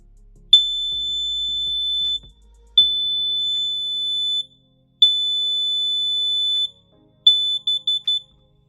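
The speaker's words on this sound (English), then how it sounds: "So once it beeps few times, that means the unit has been reset." Kidde plug-in multi-gas smoke detector beeping after a reset: three long, loud, piercing tones followed by a quick burst of short beeps, alone in a quiet room.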